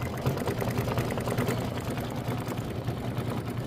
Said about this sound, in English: we're just stitching a decorative outline in 2 of the leaves